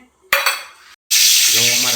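A tempering of oil and spices for mung beans sizzles loudly. A short burst is followed by a pause, then a strong continuous sizzle swells, with a faint metallic clink of the pan close by.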